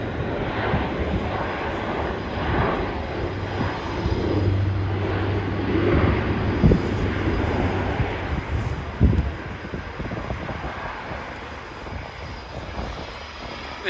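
A Luftwaffe Airbus A400M Atlas military transport aircraft comes in to land at an air show, its turboprop engines droning loud and steady with wind rush, the roar swelling in the middle and easing away toward the end.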